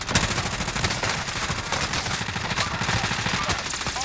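Dense automatic gunfire from a video game shooter rattles continuously, loud rapid bursts layered over a busy battle mix.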